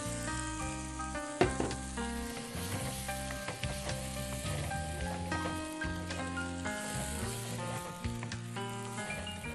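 Spinach puree sautéing in a hot pan, a sizzle under prominent background music with a few sharp clanks of utensils.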